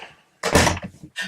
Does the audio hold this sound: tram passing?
no